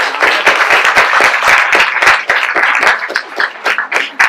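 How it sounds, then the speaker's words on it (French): Close, lively applause from wedding guests, a fairly small group clapping with distinct individual hand claps standing out, loud at first then thinning and turning uneven toward the end. "On peut applaudir."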